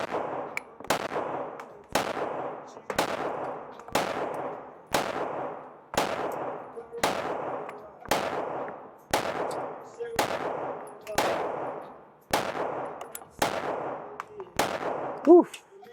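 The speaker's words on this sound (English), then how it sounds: "Another 15 shots at 10 yards, bottom left target." Glock 19 pistol fired at a target 10 yards away: about fifteen sharp, loud shots in a steady, evenly spaced sequence roughly one second apart, close by, with no talking.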